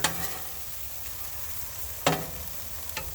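Ground meat sizzles steadily on a Blackstone griddle, a close, constant hiss broken by two sharp spatula scrapes near the end; nobody talks.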